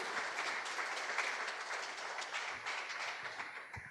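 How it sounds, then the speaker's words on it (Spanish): Church congregation applauding during a sermon, a sustained wash of many hands clapping at moderate volume, fading slightly toward the end with no talk over it. "Dale un aplauso al Señor."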